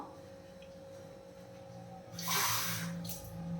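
Water splashes into a simmering egg curry gravy for Tamil egg adai aviyal, a short pour rising over steady kitchen hum, with a brief second splash after it.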